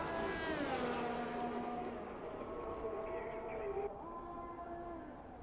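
A race car engine in a sim racing game at the Bahrain Grand Prix revs with steady high harmonics and falling gear-shift sweeps, loud and continuous, with faint commentary in the background.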